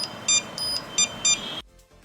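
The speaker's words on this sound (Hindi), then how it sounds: "बीप और डायड मोड वाला मल्टीमीटर लेना इसलिए फायदेमंद होता है" A multimeter in continuity mode gives four short, sharp, high beeps during a smartphone circuit board repair, close and clear over a faint hiss, then it stops.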